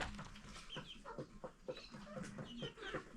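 Chickens cluck repeatedly inside a coop in rural Kenya, with several birds calling in short, uneven bursts at close range and no speech.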